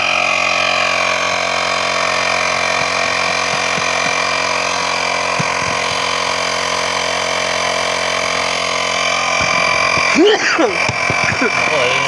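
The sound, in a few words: portable air compressor running off motorcycle battery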